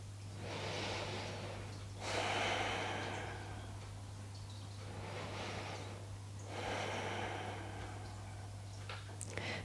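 Slow, steady breathing during a seated yoga twist, with long audible inhales and exhales alternating in an even rhythm over a constant low hum, no talking.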